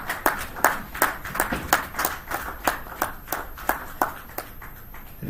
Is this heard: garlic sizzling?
no